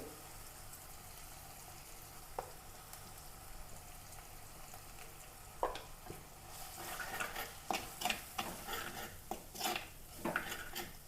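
Green chilies frying in hot oil in a pan, a steady soft sizzle throughout, later joined by louder scraping and stirring strokes of a spoon against the pan in an irregular rhythm.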